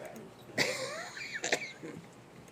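Two short, harsh coughs, the first at about half a second and the second about a second later, close and fairly quiet, followed by faint breathy sounds.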